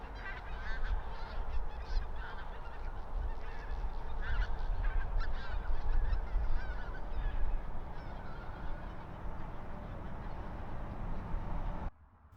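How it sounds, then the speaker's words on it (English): A large flock of tundra bean geese and greater white-fronted geese honks and cackles continuously, many overlapping calls at moderate distance over a steady outdoor hum, ending abruptly. "There were also lots of geese present, like these tundra bean geese and great white-fronted geese."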